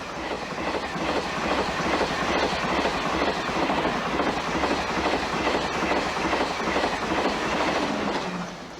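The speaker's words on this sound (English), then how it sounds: "The train that used to cross the channel meets the train that now goes under the channel." A train rolls past at speed in Britain, a steady loud rumble with rhythmic clickety-clack from the wheels on the rails throughout.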